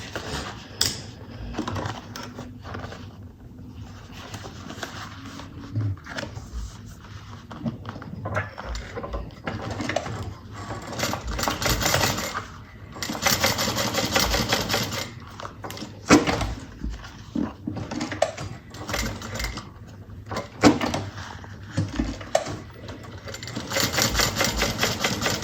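Sewing machine running in bursts while top stitching a fabric bucket bag, rapid whirring needle stretches broken by short pauses and handling clicks, close and fairly loud, with no talk.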